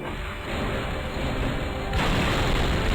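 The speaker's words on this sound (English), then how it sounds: "Explosions are quite loud." Explosions from a Halo 2D Flash fangame, a loud, continuous rumbling blast sound with a step up in intensity partway through, no talking.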